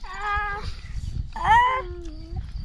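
A cat meows twice, a short call and then a louder, stretched, wavering one, fairly close over a low background rumble, with no talk.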